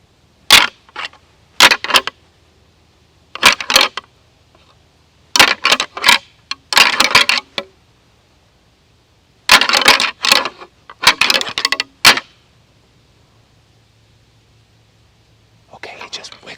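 Antlers rattled together during early-season deer hunting, sharp clattering bursts in irregular clusters with long silent gaps between, close and loud, ending with a faint final rattle.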